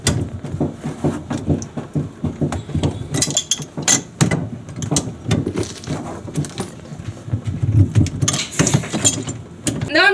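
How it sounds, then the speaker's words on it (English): Pipe wrench clanking and ratcheting against the back nut of a threaded water shut-off valve, a dense run of close metallic clicks, scrapes and knocks over about ten seconds with no talk. "I'm going to place our pipe wrench on that back nut right here, and I'm going to turn."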